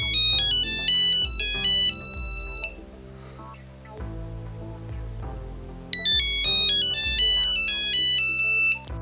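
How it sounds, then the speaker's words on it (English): The classic Nokia ringtone: bright, beeping mobile phone melody plays its familiar phrase loudly, pauses for a few seconds, then repeats. "This was the first phone to have the classic Nokia ringtone."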